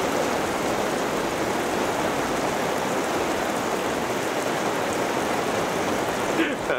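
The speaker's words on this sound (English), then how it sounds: "Es regnet nämlich und gewittert." Steady, dense rain pours down continuously during a thunderstorm, a broad hiss of drops on surfaces, with a brief faint disturbance near the end.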